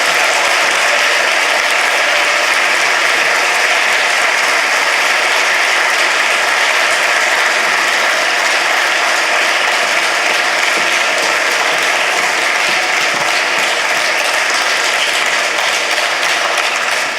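A large audience at the EUCYS 2011 prize ceremony gives prize winners a long, sustained round of applause, dense and unbroken clapping that stays even in loudness from start to finish.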